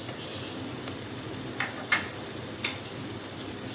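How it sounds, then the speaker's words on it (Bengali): Chopped garlic, ginger and chilli sizzle steadily in a little hot white oil, a constant crackling hiss with a few soft stirring clicks. "এইবার এগুলোকে একটু ভাজা ভাজা করতে হবে, যতক্ষণ না ওই রসুনটা একটুখানি ব্রাউন হয়ে যাচ্ছে"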